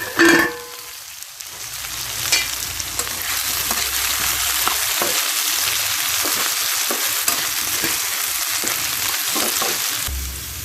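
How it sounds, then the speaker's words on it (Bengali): Potatoes frying in a pan with oil, stirred now and then, give a steady close sizzle with occasional scraping strokes throughout, and no one speaks. "আলুগুলো যখন কিছুটা ভাজা হয়ে আসে"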